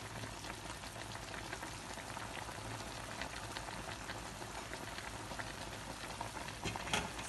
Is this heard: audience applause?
no